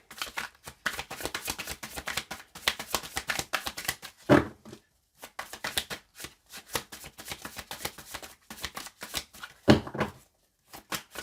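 A deck of tarot cards is shuffled by hand for a reading. Close, steady riffling and rustling bursts run throughout, with two sharper snaps of the deck partway through.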